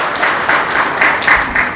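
An audience at a factory inauguration event applauds, giving a steady burst of clapping with rhythmic swells that continues throughout.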